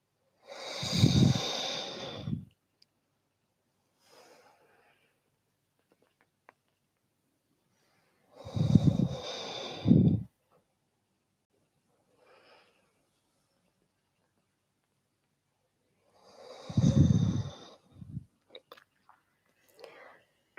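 Slow, deep breaths in and out during rolling movements in a hatha yoga class, three long airy breath sounds spaced several seconds apart, close and clear with near-silence between them.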